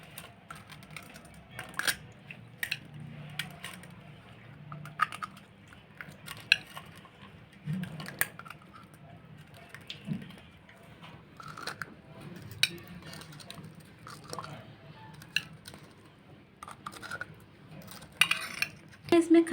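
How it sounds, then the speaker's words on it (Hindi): Light clinks and taps of a spoon as chickpeas go into crisp pani puri shells, scattered small clicks at an irregular pace, close and fairly quiet. "सबसे पहले मैं इसमें छोले डालूंगी।"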